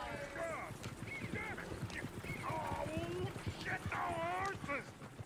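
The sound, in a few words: horses in Red Dead Redemption 2 video game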